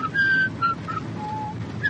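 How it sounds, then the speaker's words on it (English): A person whistles a short tune alone, a few clear held notes with brief gaps between them over a low background hum. "I'll whistle this tune."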